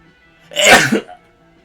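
A single loud, sharp sneeze close by, a quick burst of breath and voice that cuts off abruptly, surrounded by quiet.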